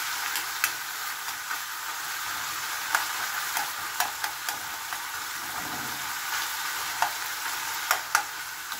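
Minced pork and green beans stir-frying in a pan, giving a steady close sizzle with scattered pops and light ticks of stirring throughout, no talk.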